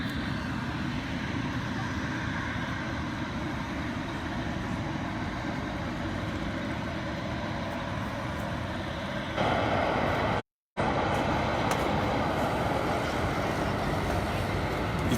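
A steady, loud roaring rush like a jet engine from a gas leak on the Lagos–Ibadan Expressway continues without letup, briefly cutting out for a moment before resuming.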